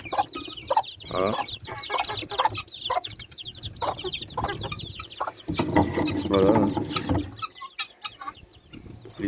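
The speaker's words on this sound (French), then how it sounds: "Là on a une poule combattant espagnol Saint-Domingue avec ses poussins." A Spanish fighting hen of the Saint-Domingue type clucks close by among her chicks, with repeated soft clucks and thin cheeping throughout. A voice speaks briefly over them.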